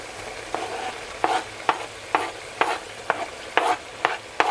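A spoon stirs sun-dried tomatoes into chicken and tarragon frying in a pan, giving about a dozen evenly spaced scraping strokes over a soft, steady sizzle, close and clear with no voices.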